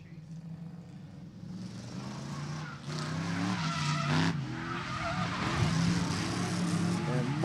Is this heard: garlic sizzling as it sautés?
no